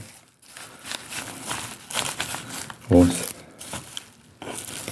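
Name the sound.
paper padding crinkling inside a used bubble envelope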